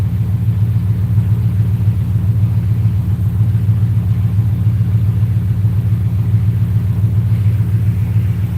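A 4.6 V8 engine idles at 850 rpm during tuning, a loud, close, steady low rumble with an even pulsing beat that holds without change throughout, no voices.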